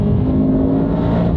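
A 1200-horsepower full-carbon supercar engine revs with a steady, dense rumble and whir, loud and close, with no voices.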